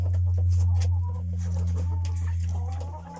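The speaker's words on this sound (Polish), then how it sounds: "O, tutaj mamy te kurczaki z odchowalnika." Young chickens from a brooder house cluck softly nearby over a steady low electrical hum, with scattered short calls from several birds.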